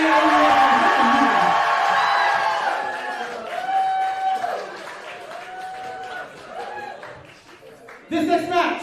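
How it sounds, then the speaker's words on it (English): Crowd at an indie wrestling show applauding and cheering, a busy mix of clapping, shouts and laughter, under a ring announcer's talk, swelling at the end. "Give yourselves a round of applause because you guys have been loud"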